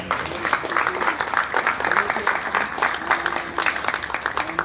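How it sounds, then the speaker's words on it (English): A crowd clapping steadily in continuous applause, with faint voices mixed underneath. "if we can give her a round of applause"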